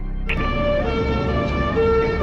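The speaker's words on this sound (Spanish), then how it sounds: "Una ambulancia llega a la carrera de San Jerónimo" An ambulance siren arrives along the Carrera de San Jerónimo. Its wailing tones rise and fall steadily over road noise, loud and close.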